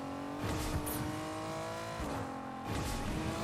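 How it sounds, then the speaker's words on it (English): A car is driven in the video game Fortnite, its engine humming steadily at moderate loudness with a few brief surges as it revs. "Car is going to be full HP, full gas now."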